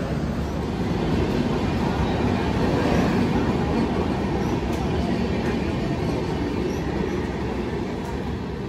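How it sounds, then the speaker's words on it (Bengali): Howrah Barbil Jan Shatabdi Express at Ghatshila station, a steady loud rumble of wheels and carriages rolling past close by, continuous throughout with no clear voices. "এসে পৌঁছেছি ঘাটশিলা, আর ট্রেন 25 মিনিট লেটে এখানে পৌঁছেছে।"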